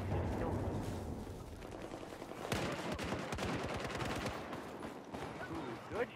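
Battlefield 4 video game gunfire rattles in rapid automatic bursts over a rumbling battle backdrop. A voice may be talking faintly underneath.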